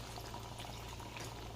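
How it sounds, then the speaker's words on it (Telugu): Water poured into a pot of spicy chicken curry, a faint steady splashing trickle with a low hum beneath, lasting under two seconds with no talk. "ఇంకొకసారి ఇప్పుడు వాటర్ పోసేయండి."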